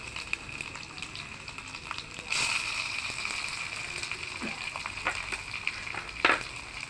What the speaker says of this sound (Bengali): এবার দিয়ে দিচ্ছি টমেটো কুচিটা